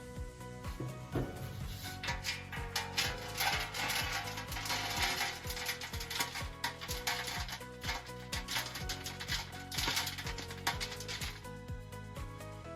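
A KVIT pellet burner auger, its feed hose removed, runs and drops wood pellets into a bucket, giving a steady mechanical hum with rhythmic clicking and a continuous patter of pellets falling, close and moderately loud.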